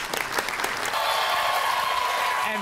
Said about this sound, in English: We're just clapping for you.